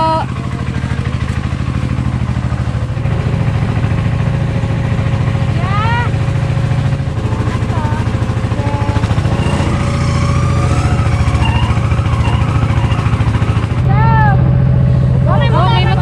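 A motorcycle runs on a rural road beside a vegetable harvest, its engine a steady, fairly close drone throughout while people talk nearby and birds chirp.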